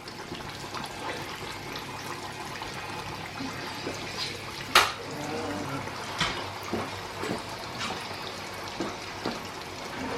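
Steady watery bubbling and sizzling noise from liquid in a pan, with a few sharp pops and crackles, close by, continuing evenly throughout.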